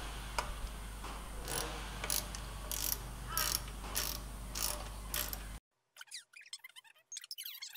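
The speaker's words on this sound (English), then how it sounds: "And then we'll run these 10mm bolts down." A ratchet clicks in quick bursts while 10mm bolts are run down on a wheel hub during a Landcruiser FJ45 disc brake conversion, close and crisp over steady hum, then sparse clicks after a sudden drop to quiet.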